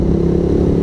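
A Honda PCX motor scooter rides along a road on a northern Philippines loop trip, its engine giving a steady, close, continuous drone with no voices.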